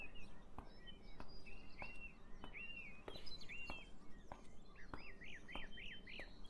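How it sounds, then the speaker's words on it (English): Seagulls in the game Beyond Eyes give faint, repeated squealing calls, some in quick rising-falling runs, over a quiet ambient bed with light ticking patter. "The sound of gulls is a very disturbing sound for me sometimes."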